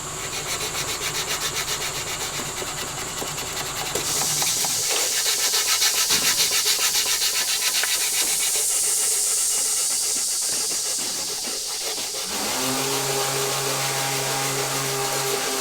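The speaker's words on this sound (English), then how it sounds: "now let's sand this top edge just a little bit" Sanding the top edge of an old, dented metal valve cover by hand, a steady scratchy hiss of back-and-forth strokes that grows louder partway through, then shifts to a rougher rubbing tone near the end, with no talking.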